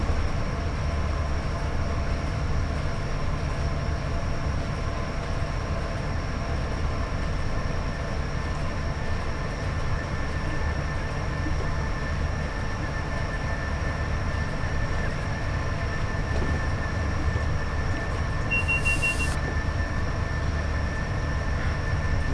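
A Class 87 electric locomotive in Train Sim World 5 runs at high speed on a level stretch of the West Coast Main Line between Preston and Carlisle, a steady rumbling drone with a constant whine, continuous and loud throughout.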